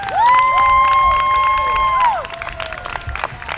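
An outdoor crowd at a bandstand rally cheers and claps after a speech, with loud whoops and a sustained high whistle over scattered applause that thins toward the end.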